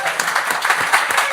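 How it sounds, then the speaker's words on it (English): Audience applause at a live comedy podcast show in a venue, a steady burst of clapping from the crowd that fills the room, loud and close throughout. "Can we have a round of applause for People Just Do Yeah, Nothing I think before we go any further?"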